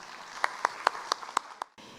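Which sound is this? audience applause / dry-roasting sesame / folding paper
audience applause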